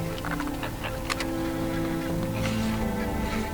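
Lesser flamingos wading in Tanzanian shallows at Ndutu give honking, goose-like calls, a steady chorus of overlapping cries at moderate distance with no talk.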